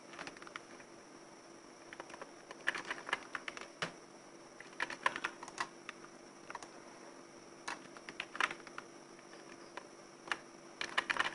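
Fingers tap text on a computer keyboard into a word processor, a quiet, uneven patter of key clicks arriving in short bursts with pauses between, faint against a soft background hum.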